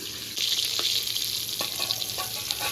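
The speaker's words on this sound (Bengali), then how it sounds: "বন্ধুরা তেলটা গরম হয়ে গেছে এবার পটলগুলো দিয়ে দেবো পটলগুলো বেশ লাল লাল করে ভাজতে হবে" Pieces of pointed gourd (potol) frying in hot oil, a loud, dense sizzle starting abruptly and holding steady, with a few scrapes of stirring mixed in, close up and without speech.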